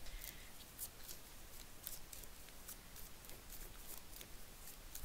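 Tarot cards being shuffled, a soft, steady papery riffling and patter close to the microphone, faint and continuous with no talking.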